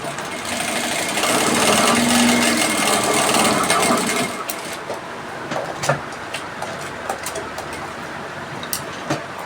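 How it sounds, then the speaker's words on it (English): A sewing machine runs a line of top stitching on an off-shoulder shift dress, a loud, fast, steady whir for about four seconds, then stops and gives way to scattered clicks and fabric handling sounds. "Let me top stitch again."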